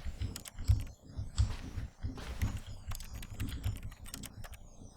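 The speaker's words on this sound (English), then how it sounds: "I just pushed 5 on the number pad on the right side of the keyboard." Rapid, uneven clicking of keys on a computer keyboard, including the number pad on its right side, tapped close by in quick bursts with brief pauses between runs of presses.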